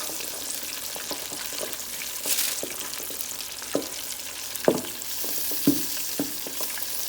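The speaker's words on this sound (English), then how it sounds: "You hear them popping?" Pig tails fry in used grease with a soft, continuous sizzle and scattered sharp pops and crackles, some louder than others, with no voices.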